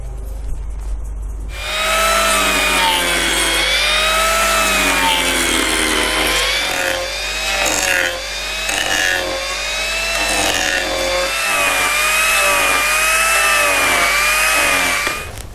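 Arbortech Turboplane power carver trimming the outside of a wooden tray, a loud, close, high-pitched whine with shifting pitch as the cutter bites the wood, running almost continuously.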